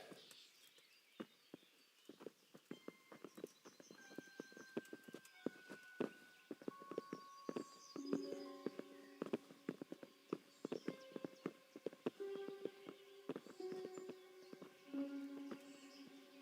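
Horse hooves in Kingdom Come: Deliverance clop at an unhurried walking pace, sharp irregular knocks over soft sustained musical tones, fairly quiet overall.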